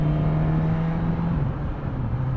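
A Suzuki GSX S1000 GT motorcycle engine revs steadily and loudly as the bike accelerates onto a motorway, a continuous close drone with a slight pitch dip midway.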